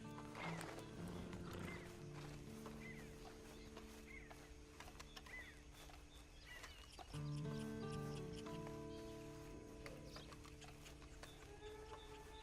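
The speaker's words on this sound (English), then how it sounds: "And you better get on this horse." Horse hooves clip-clopping in the Red Dead Online video game, with steady hoofbeats, occasional neighs and snorts, and a bed of ambient game music and outdoor sound throughout.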